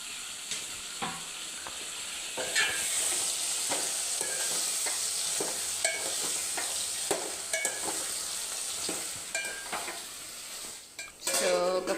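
Dried fish and tomato fry in oil in a pan, a loud steady sizzle broken by repeated metal spoon scrapes and clinks against the pot.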